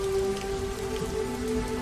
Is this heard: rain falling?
yes